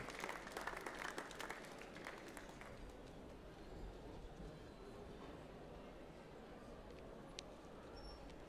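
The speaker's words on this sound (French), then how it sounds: "vous pouvez déjà les applaudir encore un petit peu" Faint audience applause in a culinary competition hall for a Geneva cooking team, a scattered clapping burst fading into a low, steady room murmur.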